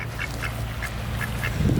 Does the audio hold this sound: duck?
yes